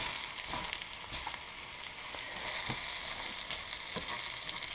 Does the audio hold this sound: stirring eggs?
yes